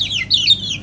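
A fighting rooster gives short, high, bright clucking calls, a couple of quick rising notes close by with no talk over them.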